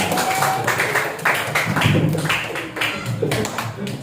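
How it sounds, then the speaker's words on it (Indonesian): A group of children at a child health-volunteer training at a community health center clap their hands in a quick, uneven burst, with young voices mixed in. "tepuk tangan"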